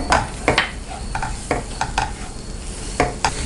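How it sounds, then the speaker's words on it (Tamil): A sweet mixture of ghee, cashew powder and coconut is stirred in a hot pan: a soft bubbling sizzle with repeated close scraping strokes of a spoon, several sharper knocks among them, and no speech. "இதை வந்து நல்லா மிக்ஸ் பண்ணிகிட்டே இருங்க"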